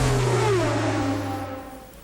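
An Indy 500 race car engine at speed, roughly 650 horsepower, screams past loud and close, its pitch dropping as it pulls away over two seconds.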